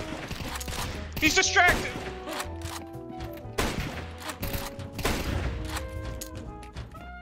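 Counter-Strike 2 gunfire: bursts of sharp shots and thuds in irregular clusters, fairly close, mixed with game effects while a player speaks.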